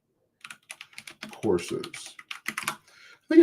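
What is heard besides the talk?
typing on a computer keyboard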